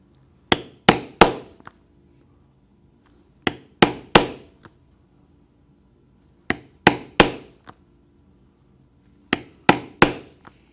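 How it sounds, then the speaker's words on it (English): A 1/8 inch round punch is hammered through leather: four clusters of three or four sharp, loud hammer blows, each cluster separated by a few seconds of quiet. "I'm going to start first with a 1/8 inch round punch, and we'll punch the holes for the lacing that we will do later."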